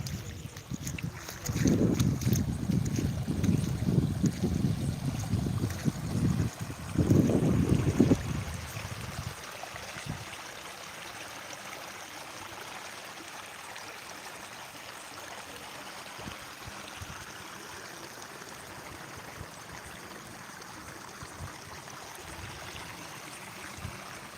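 Water from a leaking Gorakallu reservoir pipeline gushes and splashes loudly onto a road in Betamcherla for several seconds, then drops to a quieter, steady trickling flow with faint background noise.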